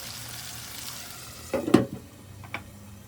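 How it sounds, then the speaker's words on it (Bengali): Rupchanda fish covered in spices cooks under a lid on low heat, giving a soft steady sizzle with a brief louder burst of frying crackle and a couple of light clicks. "ঠিক এভাবে অল্প আঁচে আপনি ঢেকে দিয়ে রান্না করবেন"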